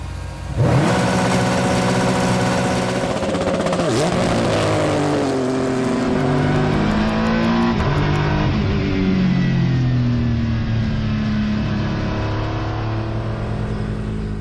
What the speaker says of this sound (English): build up the revs all the way to red line. Once I'm on the rev limiter, I dump this clutch and away we go